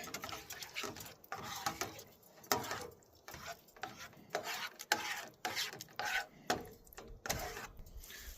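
Spatula scraping and stirring a sausage and bacon mixture in a camp cooking pan outdoors, with rhythmic rasping strokes and clinks repeating close by.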